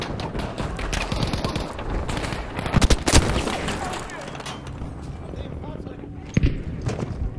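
Battlefield V gunfire crackles through a chaotic battle, with bursts of rapid shots and a few sharp, louder cracks near the middle, while a player talks over the action.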